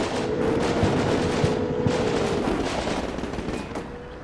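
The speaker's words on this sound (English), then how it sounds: "The frontal gunner here in the second vehicle is opening fire on those positions." A frontal gunner in a vehicle fires a machine gun in the Combat Mission Shock Force 2 game, loud rapid bursts over the battle, with tonal whines running beneath and no talk.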